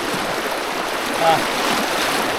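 Floodwater flowing past the entrance road to a temple in Ban That Nang Lao during heavy flooding, a steady broadband rush of moving water with a faint brief bump near the middle.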